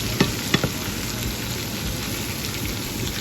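Vegetables sizzle steadily in olive oil in a pan beside New York strip steaks. A couple of sharp utensil clicks from stirring sound early on, and the moderate frying hiss carries on alone.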